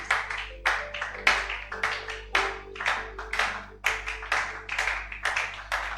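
Congregation at a church service clapping together in a steady, loud rhythmic beat of about two claps per second, close and continuous over a low background hum.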